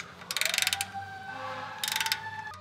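A torque wrench tightening the oil filter housing drain bolt on a Toyota RAV4, two quick bursts of sharp ratcheting clicks, close and alone over a faint background hum.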